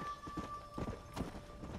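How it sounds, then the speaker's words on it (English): Horse hooves clip-clop in a video game as the mount is ridden riderless into water, a few rhythmic hoof hits close and moderately loud over a steady game hum. "I just ghost rode the horse into the water."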